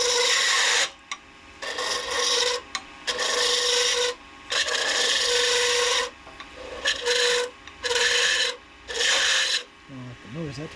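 A hand tool cutting a resin pen blank spinning on a lathe makes harsh rasping scrapes in repeated bursts of one to two seconds, separated by brief pauses.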